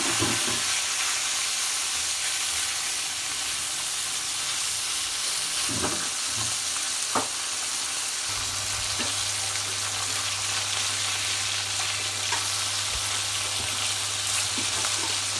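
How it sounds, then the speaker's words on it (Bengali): Snakehead fish fries in hot oil in a kadai with a loud, continuous sizzle and a few soft stirring clinks, and a low steady hum joins partway through. "মাছটা আমি হালকা করে ভেজে নিব। দিয়ে দিলাম মাছ,"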